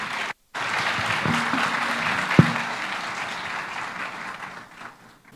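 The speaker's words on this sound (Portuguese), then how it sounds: "Auditório, aplaude painelista." An auditorium audience at a rural law congress panel applauds a panelist, a dense, loud wash of clapping that starts after a brief silence and carries on steadily before tapering off, with a sharp knock partway through.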